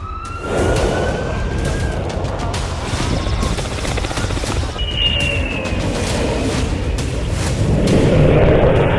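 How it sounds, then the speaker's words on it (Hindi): Indian Air Force fighter jets and helicopters roar over the Ganga Expressway in Shahjahanpur, Uttar Pradesh, during a night exercise: a loud, continuous broadband rumble fills the whole stretch, with a thin whine sliding across midway and no voices. "2 घंटे तक भारत के आसमान में रात के अंधेरे में लड़ाकू विमान गरजते रहे।"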